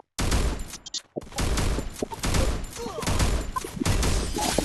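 Rapid gunfire crackles through the Free Fire mobile game, dense overlapping bursts of shots rattling almost nonstop, loud and close, with a brief lull near the one-second mark before the shooting resumes.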